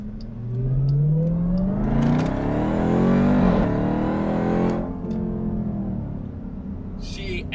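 A 2018 Jeep Grand Cherokee Trackhawk accelerates hard under boost, its engine note climbing steadily as it pulls, then easing off into a lower rumble, loud and close.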